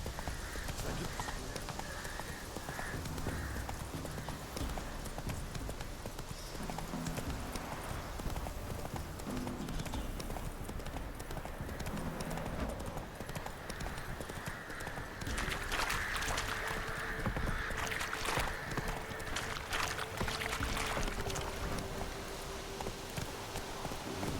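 Roach the horse gallops in The Witcher 3 video game with steady, rhythmic clip-clop hoofbeats. They run continuously under a soft background of ambience and music, moderately close and fairly quiet.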